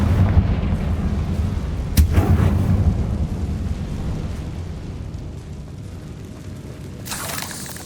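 A Confringo fire spell explodes against a barricade in Hogwarts Legacy, a sharp burst near the start of a rumbling boom that decays slowly, with a second crackling burst near the end.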